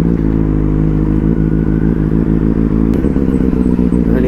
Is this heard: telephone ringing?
no